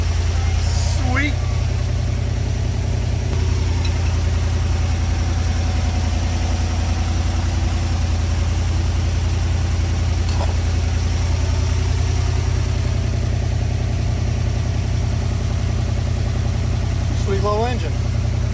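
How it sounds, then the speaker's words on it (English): Small engine of an A100 van idles steadily with a low, even rumble throughout, while people talk over it now and then. "Sweet little engine."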